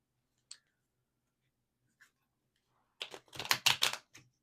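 Tarot cards are shuffled during a reading. After a few faint isolated ticks, a brief burst of quick crisp riffling clicks follows, quiet and close, with no talk.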